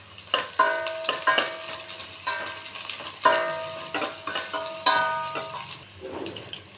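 Curry leaves crackle and sizzle in hot oil with spices in the pan, and a metal spoon clinks and scrapes the pan in sharp, ringing strikes at irregular intervals, heard close with no talking.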